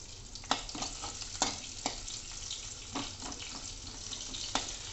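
Finely chopped green chillies sizzle in a pan over low heat, a quiet steady fry broken by several sharp stirring knocks and scrapes at irregular intervals, with no talking.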